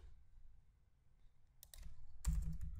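Typing on a computer keyboard while copying and pasting code, a few faint scattered key presses, then a denser burst of close, clicky keystrokes near the end.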